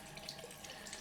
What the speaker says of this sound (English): cool, calming water on this face cloth, and let's wipe it off